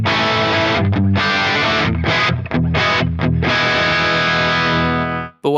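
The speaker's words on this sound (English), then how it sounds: "right now on the humbucker tone, it's going to give you that classic kind of Marshall tone" A heavily distorted high-gain electric guitar on a humbucker pickup, with a classic Marshall-style tone, plays thick, saturated chords with a few brief choppy breaks, then lets a final chord ring out before cutting off.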